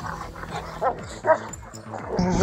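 Several street dogs bark and yip in a fight as one leads a pack attack, with bursts of barking and whimpers close by over a background of music.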